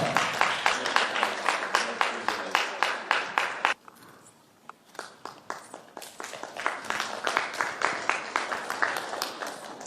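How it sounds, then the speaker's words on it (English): An audience at a gathering of first spouses claps for Medina Isaac of Mandera County, with sharp, fairly even claps that pause briefly midway, then resume and build again. "Let's clap for her"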